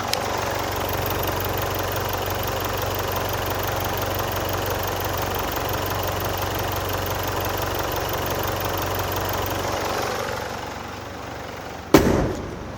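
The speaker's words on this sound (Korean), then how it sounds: "바로 엔진을 한번 들려드릴게요" A used white Jaguar XF sedan's engine idles steadily under an open, hydraulically supported hood, a constant even rumble that cuts off near the end, followed by a brief clunk.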